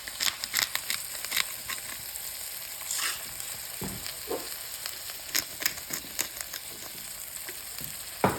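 A breakfast burger patty fries in a pan with a steady, moderate sizzle, broken by sharp crackles and pops and a few louder spatters, close to the mic and without speech.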